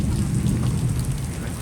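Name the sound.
heavy rain beginning to fall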